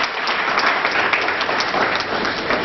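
An audience at a leadership conclave applauds in a steady, dense wash of clapping, loud and continuous from start to finish.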